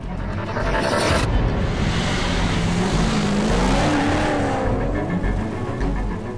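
A 1407-horsepower Pontiac Trans Am sports car drives on a test track, its loud engine roaring steadily with rising, revving pitch sweeps and a hint of tire noise throughout.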